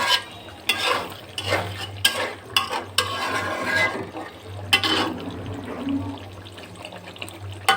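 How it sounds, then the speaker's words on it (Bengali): Fish fry with beans in a pan as they are turned and stirred, soft sizzling under intermittent scraping and clattering strokes, some louder bursts, no talking. "মাছগুলি দিয়ে দেব মাছগুলি দিয়ে একটু নাড়াচাড়া করে নিলাম"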